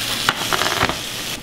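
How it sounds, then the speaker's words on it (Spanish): Carne asada meat sizzles steadily in a pan, a continuous close frying hiss with a few brief louder crackles and stirring scrapes, no voices. "Aquí estamos friendo esta carnita porque le vamos a poner carnita a los estos"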